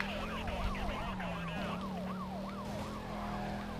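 A police siren in the racing game Need for Speed Carbon wails in a rapid rising and falling pattern over a steady engine drone, loud and close, with no talk.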